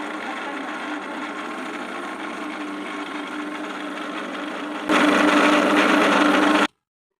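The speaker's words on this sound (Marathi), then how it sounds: "आता हे सगळं आपल्याला फिरवून घ्यायचं आहे मिक्सरला" An electric mixer grinds peanut chutney with red chili powder and garlic, a steady, dense motor whir that runs throughout and grows sharply louder near the end before cutting off abruptly.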